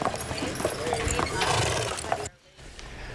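Two horses pulling a carriage, hooves clip-clopping in a steady rhythm up close with a whinny among them, a voice talking over part of it before the sound cuts briefly near the end.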